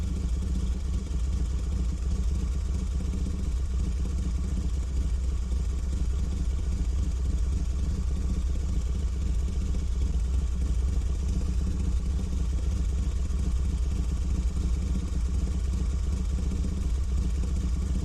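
A motorcycle engine in an animated cartoon drones steadily and loudly throughout, a constant mid-pitched idle rumble with no pauses or talk.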